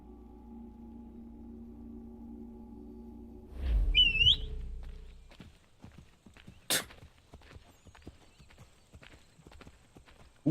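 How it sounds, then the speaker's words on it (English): A short whistle from a character in Assassin's Creed III Remastered rises over a steady ambient hum, followed by horse hooves clip-clopping and footsteps in the game world. "Who whistled?"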